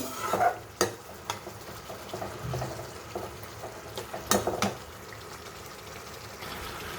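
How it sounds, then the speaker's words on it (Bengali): A spice paste with tomatoes frying in a pan as a little water goes in and a spoon stirs it: steady soft sizzling broken by a few sharp clacks of the utensil against the pan. "মশলাটা আর একটু ভালো করে কষানোর জন্য আমি এখানে একটু জল দিয়ে দিচ্ছি।"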